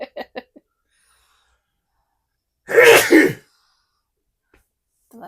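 One sharp, explosive sneeze bursts out close to the microphone, with a few brief voice sounds before and after it.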